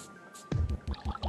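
Bionade organic lemonade poured into a cocktail of vodka, blood orange liqueur and tonic water, a few soft glugs and drips close by after a quiet start, fairly faint.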